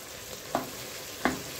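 Tomato paste sizzles in a hot pan for an Egyptian sausage pasta while a spoon stirs it, giving two distinct scraping strokes over the steady frying hiss, heard close.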